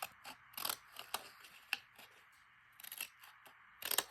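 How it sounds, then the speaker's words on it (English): Ripple-edged craft scissors snip through paper in a series of close, crisp cuts, irregular clusters of sharp snaps and rustles separated by brief quiet gaps. "I'm just going to fussy cut a couple of them here, leaving them attached, using my ripple scissors so that they have a nice jagged edge."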